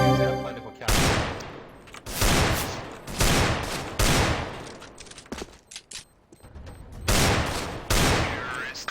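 Desert Eagle pistol fire in a video game: several loud, sharp, booming shots come one at a time at irregular intervals, each with a decaying tail, over a quieter background.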